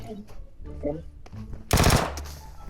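Burst of automatic gunfire from PUBG Mobile, a sudden loud rattle of shots about two-thirds of the way through, preceded and trailed by quieter game sounds and talking.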